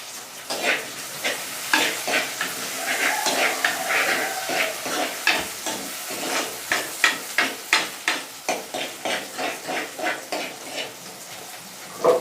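Small onions sizzle and hiss as they fry in a pan, with a steady crackle and a rhythmic run of stirring scrapes, close and clear, with no voices.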